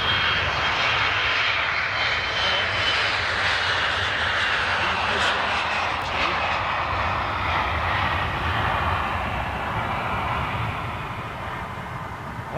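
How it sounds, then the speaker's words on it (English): Jet airliner engines roaring on a takeoff run at Amsterdam Schiphol, a loud, steady broadband rumble and hiss held for the whole stretch, easing slightly near the end, with a person speaking faintly underneath. "Wow, look at those engines, man."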